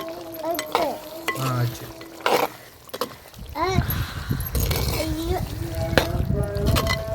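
Gongura mutton is stirred in a pan, a scraping, bubbling sizzle with occasional utensil clinks, while someone talks over it.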